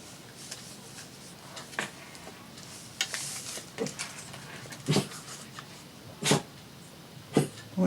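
A dog indoors, heard in a string of short bursts of coughing, hacking and sneezing or barking sounds, close and fairly loud against a quiet room.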